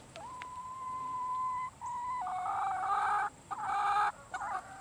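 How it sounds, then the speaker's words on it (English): Chickens cluck and squawk nearby, with a drawn-out call followed by several louder bursts of clucking and short pauses in between. "Okay, there's the chickens."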